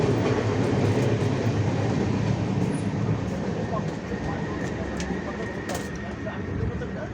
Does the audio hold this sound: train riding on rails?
yes